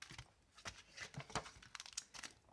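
Small paper envelopes holding paper die-cuts being handled up close, with a run of quiet crinkles and rustles, short tearing and crunching bursts scattered across the moment, and no voices.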